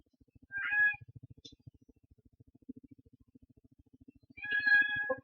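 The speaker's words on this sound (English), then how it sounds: "Kitty Cat wants to get in on this." A pet cat meows twice near the microphone, one short call then another a few seconds later, over a soft repetitive ticking background from a computer game.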